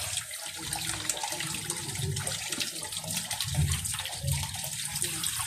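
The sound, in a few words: washing dropped vegetable slices under running water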